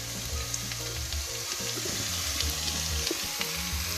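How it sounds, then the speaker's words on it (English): Bean paste fries in hot oil with fresh aromatics for beef noodle soup, giving a constant crackling sizzle with soft stirring and scraping underneath. "It has to fry in the oil for it to be aromatic."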